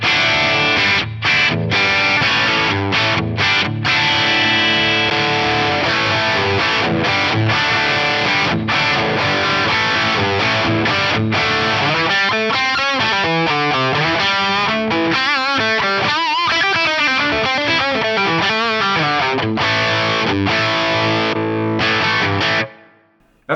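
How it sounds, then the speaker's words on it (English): A Les Paul electric guitar played through an OD1 overdrive into a Brit 800 amp with a greenback cabinet and a touch of plate reverb: distorted chords chug rhythmically, then give way to sustained ringing notes before ending abruptly. "I want to hear the OD1 in front of the Brit 800 with the greenback cab and a Les Paul, a tiny amount of plate reverb in there"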